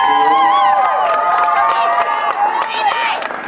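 A crowd at a rally cheers and whoops for the navigator, a bright, sustained burst of voices and shouts close by that tapers slightly toward the end.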